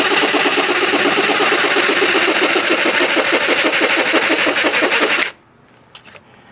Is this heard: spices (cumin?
no